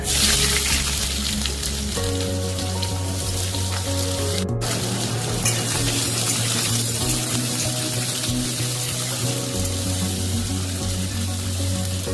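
Chopped onion hits hot oil with whole cardamom, cinnamon, cloves, bay leaf and a dried chilli, giving a steady close-up frying sizzle that carries on throughout with some stirring.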